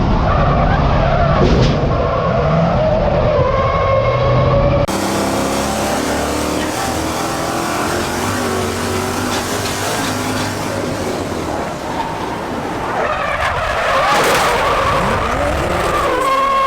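A race car drifts on the track at Harris Hill Raceway, its tires skidding and squealing loudly and continuously over a roaring engine, with the pitch of the screech shifting as the slide changes.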